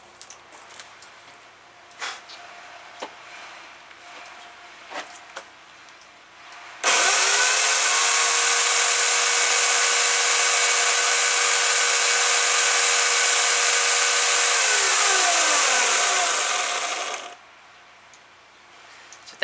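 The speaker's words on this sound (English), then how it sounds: "Listen to this Homelite electric chainsaw one last time." A Homelite electric chainsaw starts after a few quiet clicks. It then runs at a loud, steady, high-pitched whine for about ten seconds, winds down with a falling pitch and stops.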